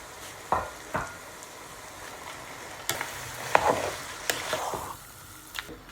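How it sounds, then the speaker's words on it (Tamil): Cooked rice being stirred in a pan with peanuts and cashews for puli sooru, a tamarind rice, brings a soft background sizzle and several sharp scraping and clattering strokes from the spoon at uneven intervals, all close by with no voices. "சோத்தோடு சேர்த்து பீனட்ஸ், கஷ்யூ நட்ஸ் ரெண்டும் மிக்ஸ் பண்ணுவோம்"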